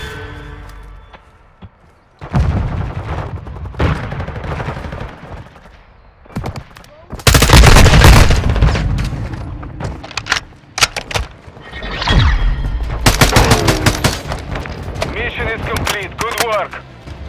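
Bursts of automatic gunfire and single shots come from a Call of Duty: Modern Warfare II match, loud and close. They arrive in rapid clusters separated by short lulls, with in-game voices calling out between them.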